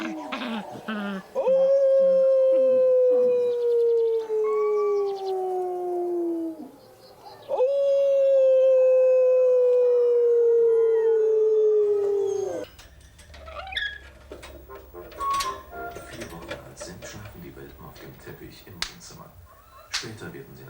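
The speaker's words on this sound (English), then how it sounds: "a lone wolf will lower the tone of its howling to give the impression that it is bigger than it actually" Wolves howling in an enclosure: two long, loud, falling howls, one sustained after another, followed by quieter scattered sounds and a voice talking.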